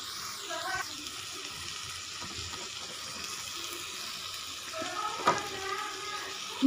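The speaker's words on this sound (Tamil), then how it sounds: "இப்போ இதில் நம்ம வந்து ரைஸை கொஞ்சம் கொஞ்சமாக சேர்த்துக்கலாம்" Cooked rice goes into a pan of chicken and is stir-fried for chicken fried rice: a steady, close sizzle with soft scraping and stirring throughout and a brief clatter near the end.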